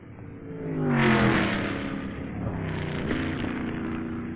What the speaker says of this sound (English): the Chaparral comes out of the pits with the auxiliary engine still not functioning